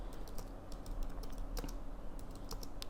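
Typing on a computer keyboard while writing Python code, a steady run of quick, light key clicks at close range with no talking.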